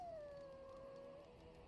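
A dog in Dragon Age: Origins lets out one long, faint howl, a steady drawn-out tone that slowly drops in pitch and then fades, with no talking over it.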